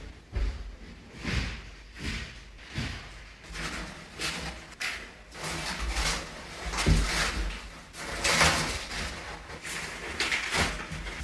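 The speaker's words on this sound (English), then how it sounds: "I thought it was someone like kicking down the doors to the hotel rooms" Loud, irregular banging and thudding in a hotel corridor, like doors being kicked in, with repeated heavy impacts and rattles spread over several seconds.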